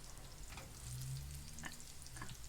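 Saint Barth galettes frying in a pan give a steady close sizzle, with soft crackle and light stirring scrapes and no voices.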